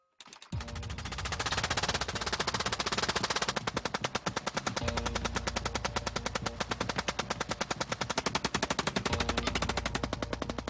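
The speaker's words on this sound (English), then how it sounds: "At a time when rifles were firing 3 shots per minute and repeater rifles got up to about 20, the Gatling gun could unleash 600." A hand-cranked Gatling gun fires a long, unbroken stream of rapid shots for about ten seconds, each report loud and close, with the dense rattle holding steady throughout and no voices.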